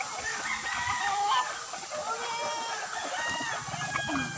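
A flock of mixed chickens and roosters on a Filipino farm, including red birds, hens and bulik fowl, clucking and crowing steadily at feeding time with dense overlapping calls and no talk.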